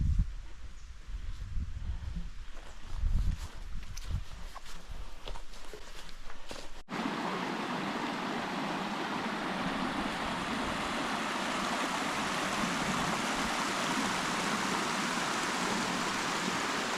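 A small waterfall in an autumn forest pours with a steady, broad rushing hiss, preceded by a few seconds of footsteps and rustling before the constant water sound takes over.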